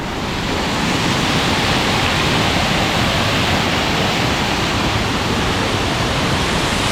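Water pours through a barrage on a lake and plunges downward, a steady, loud, broadband roar that runs continuously without pause and is heard alone.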